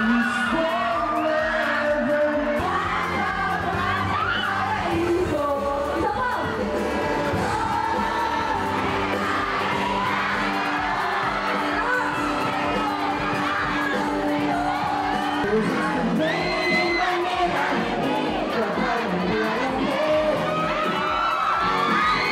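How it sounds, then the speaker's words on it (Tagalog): Fans at a festival scream and cheer loudly and continuously, shrill whoops and yells layered over a dense crowd roar, with amplified music and occasional bangs beneath. "Mas dumagundong pa ang hiyawan nang isa-isa nilang pinakilig ang fans sa kanilang performances."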